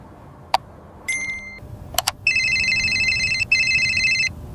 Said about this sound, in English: Your phone rings.